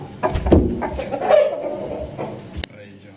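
Chicken clucks rise close by in a farmyard with newly hatched chicks, several short bursts over a few seconds, ending with a sharp knock.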